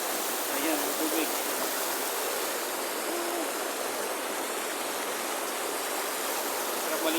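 A river on a vacant farm flows steadily, its broad, even rush of water filling the scene without pause or break for several seconds.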